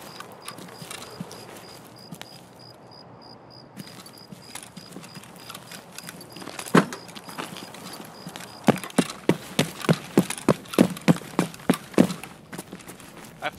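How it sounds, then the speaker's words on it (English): Horse hooves clip-clop in a video game set in night-time woods, starting with scattered steps and then settling into a steady, fairly close, repeated rhythm over faint ambient insect-like noise. "I found a horse."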